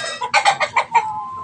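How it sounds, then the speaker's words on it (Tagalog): A fighting rooster clucking close by, giving a quick run of about five loud, evenly spaced calls that end in a drawn-out note. "Kondisyon ng manok."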